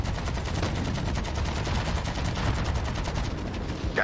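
An AK rifle fires in the video game Call of Duty Warzone, a long, rapid stream of automatic shots that stays loud and steady throughout.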